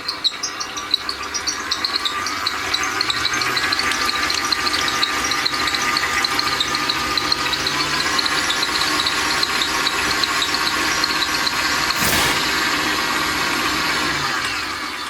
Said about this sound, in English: So my butter has been mixing for about 5 minutes now